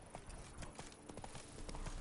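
Horse hooves clip-clop steadily through the Witcher 3: Blood and Wine game world, a quick, even beat under continuous ambient background noise and no talk.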